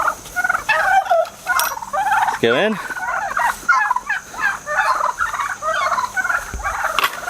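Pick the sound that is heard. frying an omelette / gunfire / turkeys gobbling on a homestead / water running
turkeys gobbling on a homestead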